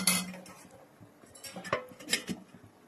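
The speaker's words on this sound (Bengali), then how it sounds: "দিয়ে আমি 10 মিনিটের মতো আমি ঢাকা দিয়ে দেবো" A metal lid clanks onto a pot of rohu fish and cauliflower curry in a home kitchen, a loud first clatter followed by several lighter clinks and taps.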